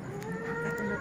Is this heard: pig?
yes